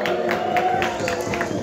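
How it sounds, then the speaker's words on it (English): An audience at a reggae sound system event in a music cafe claps and cheers, a brief burst of crowd applause with scattered rhythmic claps and a sustained tone underneath. "So give yourselves a round of applause."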